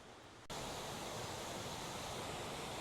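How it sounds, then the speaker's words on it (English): A waterfall at Blue Mounds, heard as a loud, steady broadband rush of falling water that begins abruptly and continues unchanged, close and without voices. "It is indeed a waterfall."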